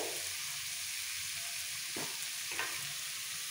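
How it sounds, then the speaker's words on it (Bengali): Boiled potatoes frying with spices in a pan, a dense continuous sizzle that stays steady throughout, with two brief scraping stirs near the end and no voices. "আলুটা ভাজা হয়ে যাবে কষার সাথে সাথে।"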